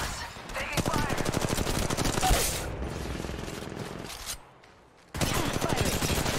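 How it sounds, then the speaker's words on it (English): Rapid automatic gunfire in the mobile battle royale game Apex Legends Mobile, loud and close, with sustained bursts that drop out briefly before another burst resumes. "I am taking fire, friends."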